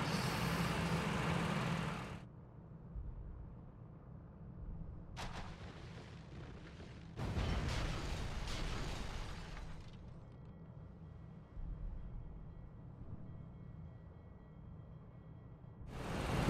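Bombs dropped from a Felixstowe F2.a flying boat in the flight game Rise of Flight explode over a harbour at about 5,000 feet. Heavy, booming blasts come in bursts over a constant engine drone, with no talking.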